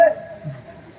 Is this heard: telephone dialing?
yes